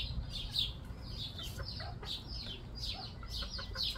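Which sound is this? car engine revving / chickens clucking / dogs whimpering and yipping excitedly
chickens clucking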